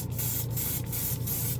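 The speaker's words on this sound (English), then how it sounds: "I always like these Tamiya basic clears. They get the job done. They spray easy." Tamiya clear paint hisses from a spray can in short, rapid bursts of roughly a third of a second each, close and steady, with no talking.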